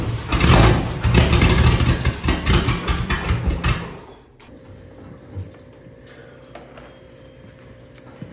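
A supercharged 1964 Datsun 320 4x4 engine, left outdoors for decades, runs loud and rough for about four seconds before cutting off, leaving a faint idle-like hum and scattered small noises.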